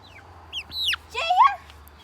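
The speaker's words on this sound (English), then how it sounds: "So I got this chicken here." Nearby chickens make short rising and falling clucks and squawks, a few calls in a quick sequence over a low background hum.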